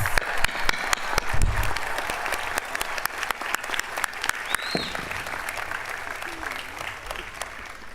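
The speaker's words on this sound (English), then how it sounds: "please join me in giving them a round of applause" Steady applause from a large crowd at the 2018 GW commencement ceremony, a continuous wash of clapping lasting the full eight seconds, fairly distant and even, with occasional voices underneath.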